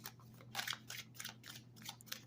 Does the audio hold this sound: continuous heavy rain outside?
no